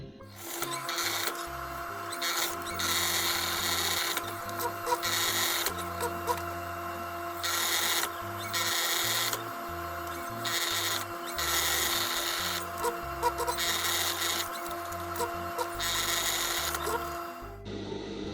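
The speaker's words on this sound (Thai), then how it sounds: "แล้วก็เริ่มเย็บจับทั้งสองด้านให้เท่ากัน" A sewing machine stitches a cloth 3D face mask in repeated bursts of fast mechanical whirring, starting and stopping every second or two, close and fairly loud, with faint speech in places.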